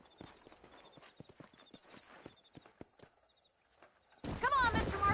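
Horse hooves clip-clop in a steady, moderately quiet walking rhythm in the Western video game Red Dead Redemption, with a soft periodic ringing alongside, before a loud burst of voice cuts in at the end.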